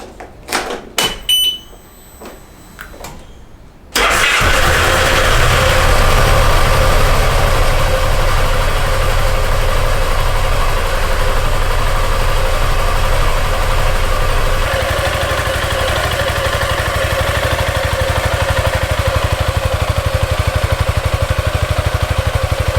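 A Piaggio MP3 scooter cranks and fires up after long storage. A few clicks and knocks come first, then the engine catches and settles into a steady, loud idle that runs uninterrupted to the end.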